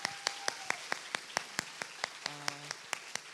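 Sparse clapping at a Model UN conference opening ceremony, individual claps landing at an even, unhurried pace, fairly faint and distant in a quiet room, with a brief tonal sound partway through.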